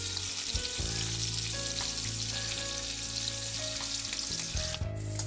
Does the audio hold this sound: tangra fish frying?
yes